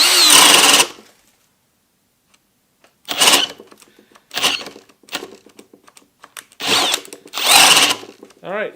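A Kobalt brushless hammer drill on speed 2 fails to finish the job. It runs in several loud, close bursts of whining motor noise, stopping and restarting with short silent gaps between them.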